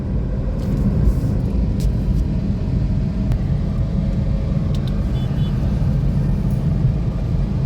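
A four-wheeler car drives along a road, heard from inside as a steady, loud low rumble with faint higher clicks and no voices.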